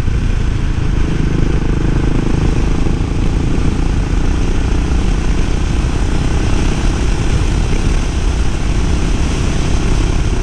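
A Suzuki motorcycle with a V-engine on a test ride along a winding mountain road, heard as a loud, steady, continuous roar, heavy with rushing wind, that holds unchanged from start to finish with no talking.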